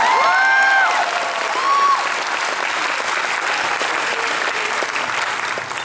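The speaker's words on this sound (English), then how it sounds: "You can clap now." Fan convention crowd at a Q&A panel applauding, a thick steady wash of clapping from a large audience with a few whoops, loud and continuous, slowly easing toward the end.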